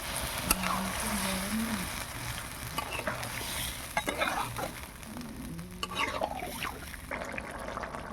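Water goes into a frying yellow cauliflower curry, giving a close wet sizzle and bubbling with scraping stirs and faint utensil clinks, while a voice speaks quietly in the background.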